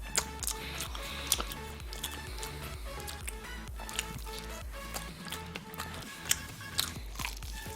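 Close, wet chewing of BBQ Golden Olive fried chicken with crunchy bites, a steady rhythm of jaw movements and occasional sharper crunches, no talking.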